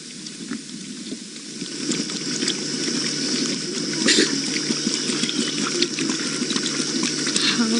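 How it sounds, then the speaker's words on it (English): A pride of lions drinking at a waterhole on an evening safari drive, a continuous wet lapping and slurping close by, steady and fairly quiet with faint background hiss. "How cool is the sound of all of these lions drinking?"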